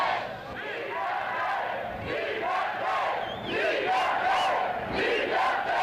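A huge crowd of about 10,000 people at a free speech rally chants and shouts loudly and steadily in unison, a dense roaring mass of voices filling the whole stretch.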